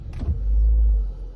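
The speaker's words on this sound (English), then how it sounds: "And if you turn the ignition on" Switching on the ignition of a 2006 Renault Megane Scenic sets off a brief click and whir, then a loud, steady low electric hum that swells and fades over about a second, close up with no talking.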